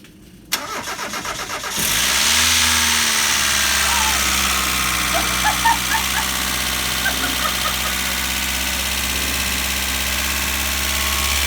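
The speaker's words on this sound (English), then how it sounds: "We're just going to see if the engine works at all." A starter motor cranks briefly, then an engine catches and settles into a steady, loud idle nearby, with faint chirps over the hum.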